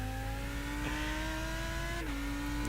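The engine of a Lamborghini Huracan GT3 EVO race car in iRacing drones in a steady, rising whine, then drops pitch briefly at an upshift before climbing again. It sounds fairly quiet and even, as if heard from the cockpit.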